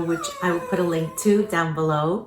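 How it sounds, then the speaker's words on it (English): A pet dog named Mackie cries and howls in long, wavering, rising whines close by, overlapping a person speaking indoors. "Oh, please excuse my dog. He's crying."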